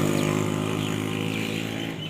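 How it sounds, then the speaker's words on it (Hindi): A tractor working on a road, cleaning the surface, with a steady droning engine hum holding at moderate loudness and a faint mechanical whir on top, slowly easing off toward the end. "वो देख के जी, ट्रैक्टर है ना जो, वो सड़क की सफाई कर रहा है।"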